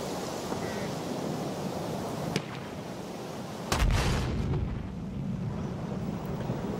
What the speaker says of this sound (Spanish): Este cañón tiene vida, lanza un tremendo disparo a larga distancia